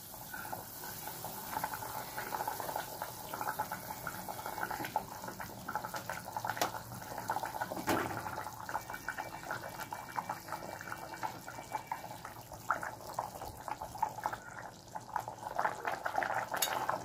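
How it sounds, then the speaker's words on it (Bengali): Katla fish curry gravy simmering in a pan, a faint steady bubbling and hiss with occasional small clinks, continuous with no talking. "আমার ঝোলটা ফুটছে"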